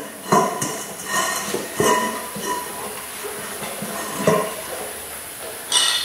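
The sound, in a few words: removing beadlock and tire from wheel rim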